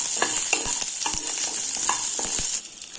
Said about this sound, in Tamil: இது எல்லாத்தையும் நல்லா ஃப்ரை பண்ணிக்கலாம்.